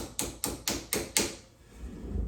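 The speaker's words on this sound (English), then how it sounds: "now I'm going to try and hammer out a couple of pins" Five quick metallic hammer taps knocking pins out of the track links on an Armortek 1/6 scale Leopard 2A4 RC tank, evenly spaced and fairly close, followed by a brief quiet tail.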